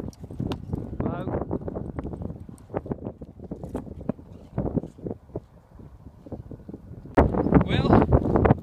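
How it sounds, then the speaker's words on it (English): Horse hooves clop rhythmically on the ground of a cold team-roping practice pen while the horse is warmed up, a rapid run of dull thuds mixed with wind noise, louder toward the end. "Got my horse is shivering right here, so I better get to warming him up."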